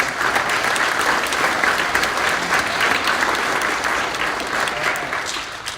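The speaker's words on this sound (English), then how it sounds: "she deserves a round of applause" An audience at a junior high and 8th grade awards night claps in a long, even round of applause, many hands in a gym or auditorium, sustained and fairly loud before slowly easing.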